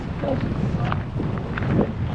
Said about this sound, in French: Gros vent.